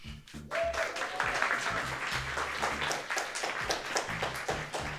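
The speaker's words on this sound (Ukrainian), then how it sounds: "Прошу ще аплодисментів для Олександра" An audience at a coffee brewing championship final applauds after a competitor's presentation, with steady, fairly loud clapping from many hands that continues throughout after a brief quiet start.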